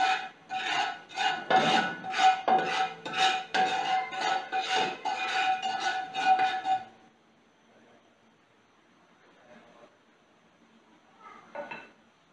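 A metal pan holding salt and corn kernels at home is shaken and stirred in quick, loud rattling strokes for about seven seconds, then it falls quiet apart from a faint scrape near the end.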